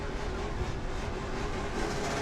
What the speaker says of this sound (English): Anthony Lassard with a heck of a victory donut here.